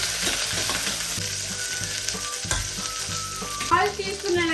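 Whole green chilies and curry leaves crackle and sizzle loudly in hot oil as a spoon stirs and knocks against the pan in repeated strokes, with no talking.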